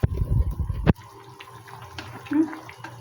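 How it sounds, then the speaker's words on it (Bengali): Hot water is poured into a pan of fish curry with kohlrabi and potato. A short, loud splashing pour is heard up close, then a quiet bubbling hum. "এবারে দেখো এই জল ঢেলে দিয়েছি এবং গরম জল"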